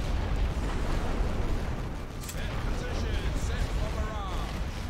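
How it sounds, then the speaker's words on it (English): Heavy artillery in The Great War: Western Front pounds away as a continuous low rumble of distant explosions, dense and booming for the whole stretch, with faint bursts layered on top. "Luckily, my heavy artillery is in range of this, so we can hit them while they're out in the open."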